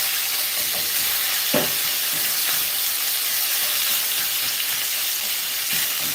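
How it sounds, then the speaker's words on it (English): Bacon sizzling and crisping in a pan, a steady bright frying hiss with occasional pops and a few stirring scrapes, close and continuous with no talk. "we're just going to continue crisping our bacon"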